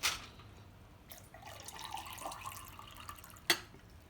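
Water from a tap runs quietly and steadily into lemonade concentrate, with faint trickling, a few soft drips, and a sharper splash near the end.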